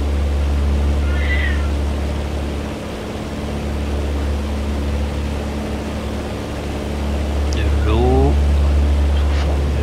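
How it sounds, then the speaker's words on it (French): A cat meows twice, a short faint call early and a clearer rising-falling meow later, over a loud steady low drone of a small aircraft engine in the cabin. "Ça, c'est le chat qui est derrière."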